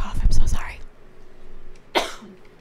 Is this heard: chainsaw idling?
no